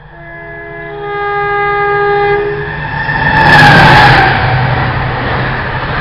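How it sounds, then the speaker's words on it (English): A Freightliner Class 70 diesel locomotive passes through close by, opening with long sustained horn tones that fade out, then a swelling rumble and rail clatter that peaks as it goes past and stays loud to the end. "Passing through now. The class 70 for Freightliner."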